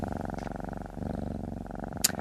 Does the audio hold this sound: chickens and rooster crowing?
no